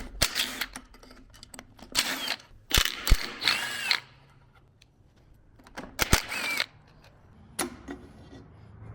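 Quick bursts of ratchet clicking, close and crisp, come in short spurts separated by pauses while the throttle body is unbolted from a Toyota 22RE engine.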